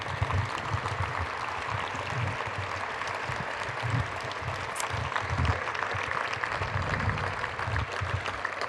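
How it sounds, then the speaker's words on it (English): Sustained applause from a standing audience at a Michigan State University Hall of Fame induction ceremony, a dense, even patter of many clapping hands filling the hall without a break. "y'all stand up and give a round of applause for OG anyway"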